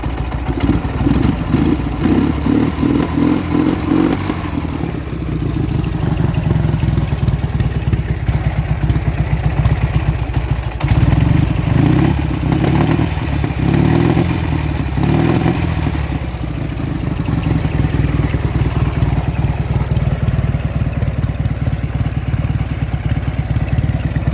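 An old Soviet Ural IMZ motorcycle engine runs loud and close just after a cold start, with a steady uneven idle chugging and clattering through homemade stainless exhaust pipes, the beat shifting slightly partway through.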